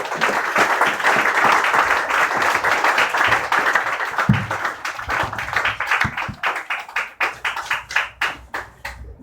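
A church congregation applauds loudly and steadily for the messenger, a dense wash of many hands clapping that thins out toward the end into fewer, separate claps.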